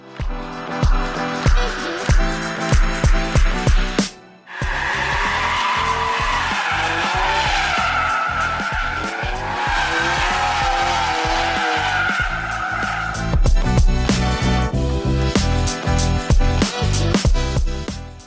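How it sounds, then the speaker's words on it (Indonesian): A Subaru BRZ drifting, tires squealing and skidding in long sustained screeches over a loud revving engine, with bursts of throttle and gear changes, close and continuous throughout. "Enak banget dipakai drifting, nggak terlalu ribet dipakai drifting."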